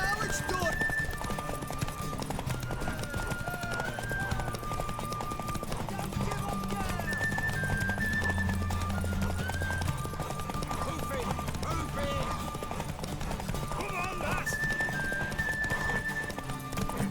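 Rhythmic hoofbeats of a galloping horse in a horse race in The Witcher 3: Wild Hunt run steadily throughout, layered over continuous game music and effects, with voices speaking at times.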